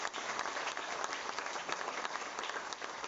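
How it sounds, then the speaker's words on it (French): Applause fills a political ceremony in Mauritius as an appointed deputy chief government whip is honoured: a dense, steady patter of many hands clapping at moderate distance, with no speech over it. "Applaudissements pour l'honorable Joanne Tour."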